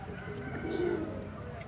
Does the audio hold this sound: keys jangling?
no